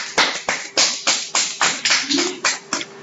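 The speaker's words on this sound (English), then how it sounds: "I think she deserves a clap at least" A small classroom group claps for a student, roughly ten separate sharp claps in a loose, uneven rhythm, close and fairly loud, with a faint voice briefly underneath.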